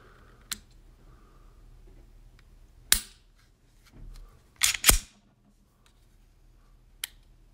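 Trigger of a Smith & Wesson M&P 2.0 10mm pistol being dry-fired: a few sharp, isolated metallic clicks spaced a second or more apart, close up in a quiet room.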